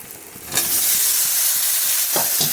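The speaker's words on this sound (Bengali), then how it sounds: "আমি টমেটোটা একসাথে মশলাটার সাথে ভালোভাবে কষিয়ে নিচ্ছি।" Tomatoes and spices sautéing in a pan, a steady close sizzle and hiss that swells after a quiet start, with faint stirring scrapes and no talk.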